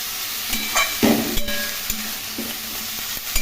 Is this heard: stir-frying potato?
yes